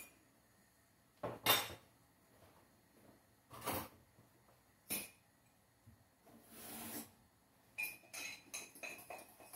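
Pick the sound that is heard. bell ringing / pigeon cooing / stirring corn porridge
stirring corn porridge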